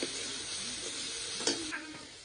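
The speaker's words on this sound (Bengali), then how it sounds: "আদা রসুনের যে বাটি ধোয়া জলটা দিয়ে দিচ্ছি।" Ginger-garlic rinse water poured into frying spice paste for a desi chicken curry sets off a loud, steady sizzle, close and continuous, with a brief sharper burst of hissing partway through.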